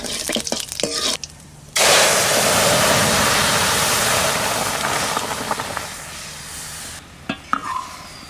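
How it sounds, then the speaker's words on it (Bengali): Dry red chili and cumin seeds crackle and sizzle loudly in hot mustard oil as dal is tempered, a sustained bright frying hiss of several seconds, with brief clatters of utensils before and after. "ডাল ফোড়ন দিয়ে দেবো, সরষের তেল দিয়ে দিচ্ছি, শুকনো লঙ্কা,"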